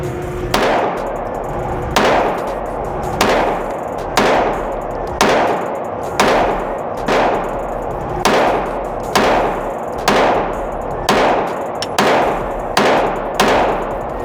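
A TriStar APOC Compact 9mm pistol fired at a shooting range: about fourteen loud, sharp shots in a steady rhythm roughly one second apart, each with a short echoing tail, with no talking.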